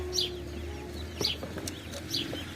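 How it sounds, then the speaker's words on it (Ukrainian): Chicks and ducklings for sale at an outdoor flower market give three high, repeated peeping calls, evenly spaced over a low background hum of the crowd. "Цыпы, уточка, качечка."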